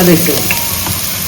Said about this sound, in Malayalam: അതിട്ടിട്ട് നല്ലപോലെ ഒന്ന് വഴറ്റി കൊടുക്കുക